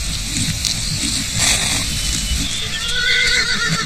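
Wild horses neigh loudly, with a rising, quavering whinny near the end over a rumbling, scuffling background of herd movement, close and intense.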